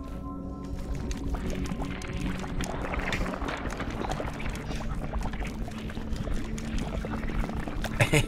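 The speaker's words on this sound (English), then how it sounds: "so now we can get in the water and go for a swim" A character swims through water in the Chicory: A Colorful Tale video game, producing a steady stream of soft sloshing and splashing that continues throughout at moderate, even loudness.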